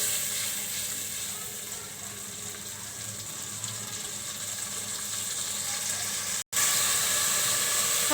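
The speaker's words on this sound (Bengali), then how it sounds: "মশলাগুলো একটু কষিয়ে নেব।" Spices frying in oil in a pan, a steady loud hiss and sizzle with a brief dropout near the end and no talking.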